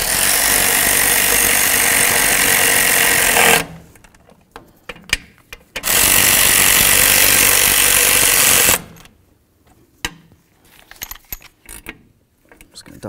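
Brake backing plate bolts on a 1992-99 GMC K1500 are driven tight, with two loud sustained bursts of a power tool, each lasting about three seconds, separated by clicks and clattering tool handling close by.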